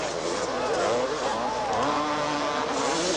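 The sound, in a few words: motocross motorcycles racing at supercross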